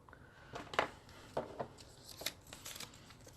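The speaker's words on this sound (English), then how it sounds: "And I always just cut my tabs in half." Scissors snip through a paper tab for Bible journaling, a few short crisp cuts in a quiet room.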